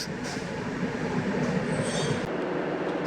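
A Garib Rath Express train on the third platform at Hindupuram station gives a steady, loud rail rumble, with short metallic squeals and faint high tones briefly rising over it.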